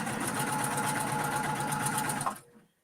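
A sewing machine runs steadily and fast, stitching quilt block pieces together, with an even mechanical whir and rapid needle rhythm that stops abruptly near the end, leaving quiet.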